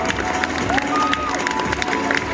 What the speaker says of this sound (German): Kommt wieder zu mir und einen Applaus bitte für alle.